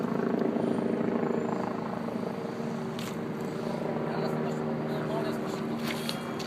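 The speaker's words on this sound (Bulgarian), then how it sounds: "Хеликоптер е полицейски, естествено." A police helicopter flies overhead above the Thames in London, a steady droning rotor and engine rumble that holds loud and even throughout, with people talking over it.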